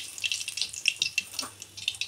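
Dried red chilli, bay leaf and radhuni crackle and sizzle in hot oil for tempering, giving a faint, close run of quick irregular pops over a soft hiss.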